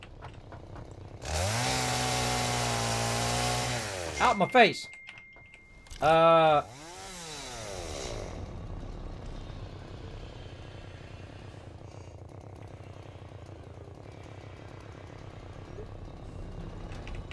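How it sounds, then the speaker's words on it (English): A chainsaw revving in the factory-building video game Satisfactory, a loud steady buzzing roar for a few seconds followed by a brief second burst, with a quick spoken phrase between. "good time to pull out the chainsaw."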